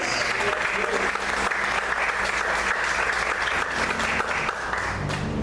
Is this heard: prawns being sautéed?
no